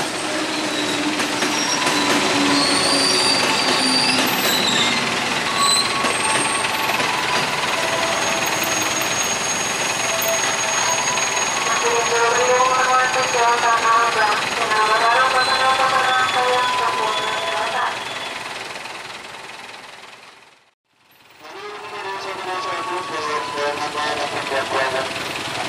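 A KRL commuter train arrives and stops at Tigaraksa station in the afternoon: loud, steady rolling rumble with squealing, tonal brake whine as it slows, a brief drop to near silence, then the rumble returns. An announcer's voice sounds over it.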